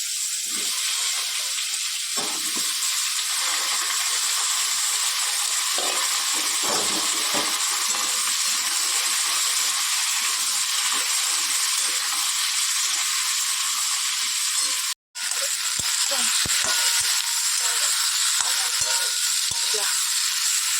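Papaya and potato pieces frying in a pan with radhuni seed tempering give a steady, bright, close sizzle that runs throughout, with a brief cut near the end and faint clinks and stirring beneath.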